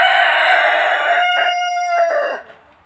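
A rooster crows loudly and close in one long drawn-out call, its harmonic pitch held for over two seconds with brief breaks before it cuts off and fades.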